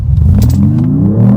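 A 2025 Mercedes-Benz E53 AMG hybrid accelerates hard, its engine note a loud, steady rumble that rises smoothly in pitch as it pulls, close and without talk.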